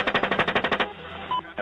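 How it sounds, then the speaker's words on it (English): An Apache helicopter's 30mm cannon fires a rapid, evenly spaced burst of about ten rounds, then stops and leaves a rumbling tail; moderately loud and somewhat distant, with no talk. "The very distinct fire of an Apache 30mm cannon."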